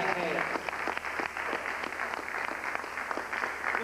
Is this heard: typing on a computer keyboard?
no